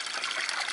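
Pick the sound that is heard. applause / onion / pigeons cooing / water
water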